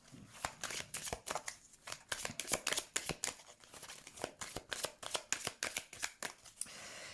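Tarot cards being shuffled and cut by hand, a rapid close run of crisp riffling flicks and slaps, soft and steady without talk.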